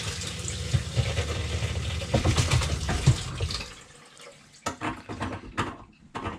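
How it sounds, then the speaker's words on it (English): Water gushes steadily from a newly installed RV bathroom faucet for a few seconds, then stops; faint clatter and handling noises follow. "And we have water."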